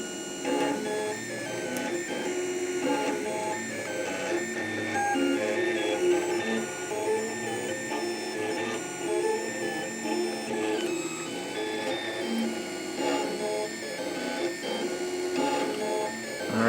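3D printer laying down the base of a jigsaw puzzle piece, a busy stream of stepper-motor whirs and chirping tones with irregular moves, steady and fairly close.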